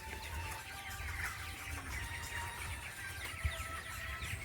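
Chickens cluck and call steadily among a farmyard flock, with bird chirps and a low rumble underneath, moderately loud and continuous throughout.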